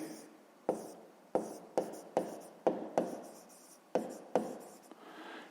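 A pen writes on paper in a quiet room while a fifth-grade maths exercise is worked through: about nine quick scratchy strokes, each starting sharply and fading, spaced roughly half a second apart and heard up close with no talk.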